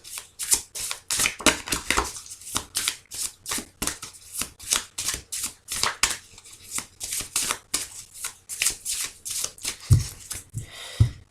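Tarot cards are riffled and shuffled in rapid, close, rustling bursts that repeat continuously with short pauses, loud and alone without talk.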